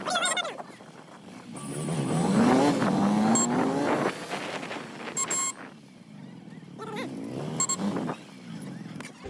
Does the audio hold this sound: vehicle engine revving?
yes